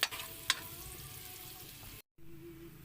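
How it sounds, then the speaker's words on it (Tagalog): Shrimp sautéed in a hot pan for drunken shrimp, a steady sizzle with a couple of sharp stirring clicks early on, a brief gap of silence, then quieter frying resumes. "brown na siya, pwede na natin ilagay yung hipon. Gisa lang ng konti."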